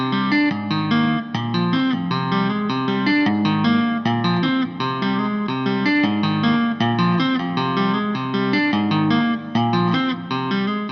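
An electric guitar plays a continuous arpeggiated riff of ringing suspended chords, steady and evenly paced with a slightly effected, echoing tone.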